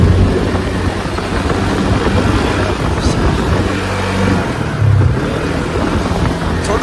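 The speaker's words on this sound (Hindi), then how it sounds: "अभी हम करने वाले हैं ATV राइड दोस्तों, इस गाड़ी की।" ATV engine on a desert ride near Jaisalmer, a loud, steady close-up motor drone with rough low rumble and wind noise buffeting the microphone throughout.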